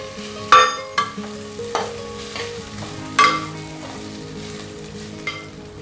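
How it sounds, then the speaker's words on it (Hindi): Sago pearls roasting in ghee in a pan for a Navratri fasting sweet, with a steady low sizzle and several sharp scraping stir strokes, close and clear, no voices. "अब हम थोड़ा और घी डालेंगे और साबूदाना हम भून लेंगे"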